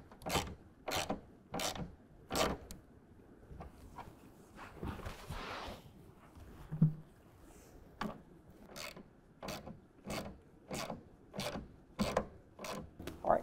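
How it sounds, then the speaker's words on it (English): A 10mm wrench tightens a nut while a BakFlip MX4 hard folding tonneau cover is installed on a 2024 Ford Ranger. Crisp ratcheting clicks repeat in an even rhythm, close and fairly quiet, with a brief pause partway through. "use a 10mm wrench, hold that nut in place, and you can go ahead and get it to the proper torque setting"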